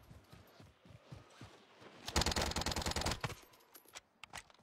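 Rapid automatic gunfire in the Warzone video game rips out in a loud sustained burst of about a second, framed by scattered single shots and quieter thuds around it.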